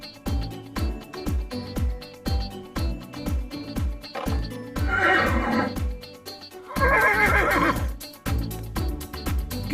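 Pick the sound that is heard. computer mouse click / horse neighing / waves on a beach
horse neighing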